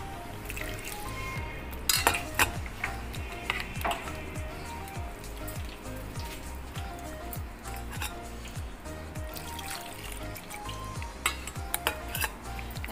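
A paste being stirred and mixed in a pan, with repeated scraping and clinking of a utensil against the metal over a steady low sizzle, continuous and close.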